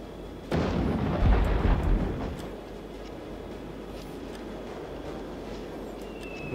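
A cannon fires in the Warhammer: Dark Omen battle game, a single deep boom that rumbles and fades over a couple of seconds into steady background ambience.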